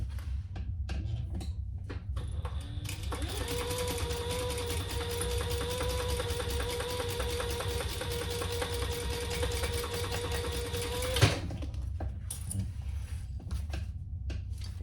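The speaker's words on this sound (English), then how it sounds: "we're gonna sew that together at the same seam allowance" Sewing machine stitching the seam of a crossbody bag, a rapid steady mechanical chatter running for several seconds before stopping with a clack, softer handling noises on either side.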